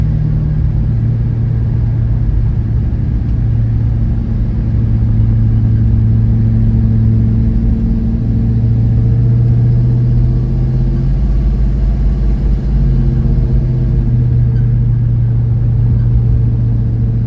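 A 1967 Dodge Coronet, back on the road after thirty years, holds a loud, close, steady engine rumble under a power brake, its deep drone swelling and easing slightly as the revs are held.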